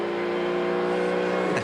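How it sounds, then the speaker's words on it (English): Ford V8 touring car engine at the 1994 ATCC round at Symmons Plains, holding a loud steady high-revving drone on track, then the pitch sweeps as it passes close by near the end. "Great Ford V8 giving it a nice purr there"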